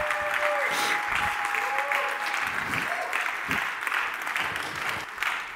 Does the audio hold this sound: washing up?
no